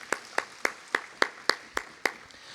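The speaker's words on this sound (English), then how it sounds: "Extra special round of applause for them" Brief, light applause for breakfast club volunteers who brought sandwiches at a campaign opening event, heard as about nine separate, evenly spaced hand claps, moderately close and sparse, as if from only a few people.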